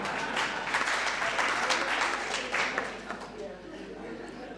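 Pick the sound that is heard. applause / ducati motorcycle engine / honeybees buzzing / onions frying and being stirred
applause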